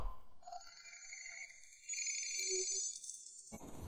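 Ringback tone on an outgoing international telephone call: faint, thin tonal purrs that sound alone on a quiet line, ending with a sudden click.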